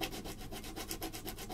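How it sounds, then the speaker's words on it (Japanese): Sandpaper rubs back and forth on a wooden part of a 1600-yen Flying Tiger ukulele during repair, a close steady rhythm of about a dozen quick scratchy strokes with no talking. "紙やすりである程度成形する"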